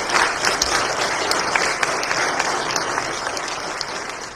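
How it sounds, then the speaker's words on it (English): Audience applause for the newest mother present at a Sunday gathering, a steady wash of many hands clapping together, moderately loud and sustained for several seconds without talk. "Let's give her a round of applause"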